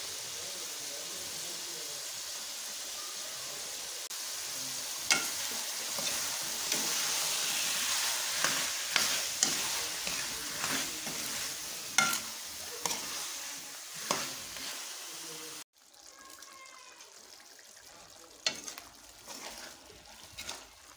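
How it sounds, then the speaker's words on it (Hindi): Vegetables fry in spice masala in a pan: a steady, close sizzle with repeated scraping stir strokes that grow busier midway, then a brief drop and quieter frying with a few more stirs. "हम इनको पहले से मसाले में भून लेंगे"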